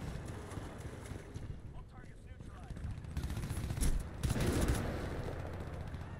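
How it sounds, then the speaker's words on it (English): Heavy automatic gunfire in the shooter game Crysis 2, rising to a loud dense burst near the end, with a voice talking over the game sound. "Heavy gun fire right away."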